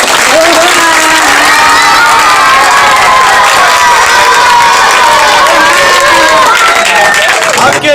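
Loud crowd at a ward office opening, sustained clapping mixed with cheering and shouting voices throughout, close and continuous.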